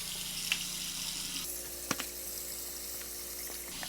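Water runs steadily from a bathroom tap into a sink for face washing during a skincare routine, a close, even hiss that shifts in tone midway as the flow changes, with a couple of small knocks and no speech.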